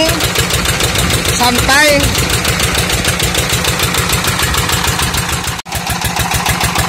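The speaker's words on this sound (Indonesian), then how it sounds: "Padahal kalau kita dengar dari bunyi mesinnya itu tidak terlalu kenceng" A 20 HP NR diesel engine drives a 6-inch Intan volute water pump, chugging in a steady rapid thump close up and loud throughout, with a brief voice over it.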